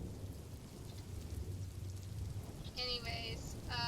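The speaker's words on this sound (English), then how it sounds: "Royalty-free rain sounds in the background so that there's something." Steady royalty-free rain with thunder rumbling low beneath it, playing as a continuous background wash, with a few brief high tonal sounds appearing near the end.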